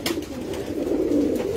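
Racing pigeons in Gujrat coo nearby, giving a brief run of low, rolling throaty calls over soft background noise, with no talking.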